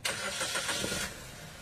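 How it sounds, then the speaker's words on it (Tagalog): A Suzuki Ertiga engine, fresh air filter fitted after overheating and misfiring, cranks briefly and catches, then settles into a steady idle, heard up close. "Tapos ilagay nyo na itong air filter nya, tsaka nyo ngayon start itong makina"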